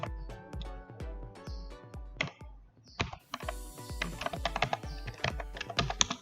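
Code typed on a computer keyboard, a rapid run of close, crisp key clicks with irregular rhythm, a brief pause near the middle and then a denser burst of keystrokes, with no talk.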